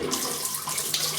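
Cold tap water runs steadily into a sink while a shaving brush is rinsed, a loud, close, continuous splashing rush with slight shifts in tone.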